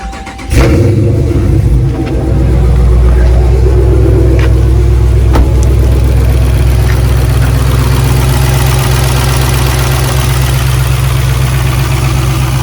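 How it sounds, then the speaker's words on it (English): A 5.7 Hemi V8 engine starts and settles into a loud, steady idle around 1,000 RPM with a low rumble; faint rapid fuel injector ticking runs through the drone. "I noticed the ticking got more louder in my engine bay, and it's not a lifter tick."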